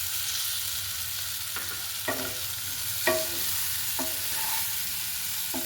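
Boiled salted potato pieces stir-fried with flat beans in a pan give a soft continuous sizzle, broken by several distinct spatula scrapes and clinks spaced about a second apart.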